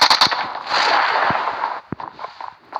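Gunfire in PUBG Mobile opens with several close, sharp rapid shots. A sustained noisy burst of fire follows, then scattered single cracks trail off.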